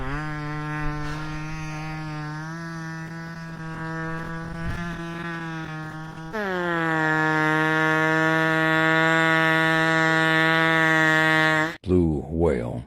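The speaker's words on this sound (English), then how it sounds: "Beluga whale." Beluga whale vocalizing underwater: a long, steady, buzzy droning call rich in harmonics that jumps once to a louder, higher pitch, then ends in short warbling squeals.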